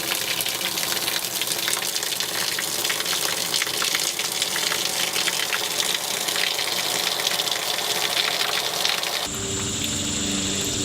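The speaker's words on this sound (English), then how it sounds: "I just need to turn this valve on, and so there's my outdoor shower" Outdoor garden shower in a backyard running after its valve is opened, a strong, close hiss of spraying water pouring continuously before the sound shifts abruptly near the end.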